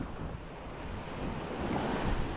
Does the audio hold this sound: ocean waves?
yes